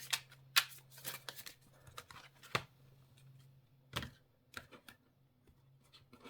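Tarot cards are shuffled by hand in a quiet room, giving soft irregular flicks and riffling taps over a low steady hum, close and faint.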